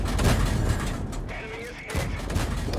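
Rapid shots from the Covenanter tank's gun in a tier 5 tank video game, a quick string of booming blasts over a busy battle rumble, with a voice talking throughout.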